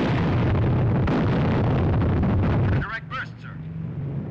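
A flak shell bursts close to a bomber in a war film soundtrack: a loud, sustained roaring blast that drops off sharply into a rumbling aftermath, with a voice calling out over it.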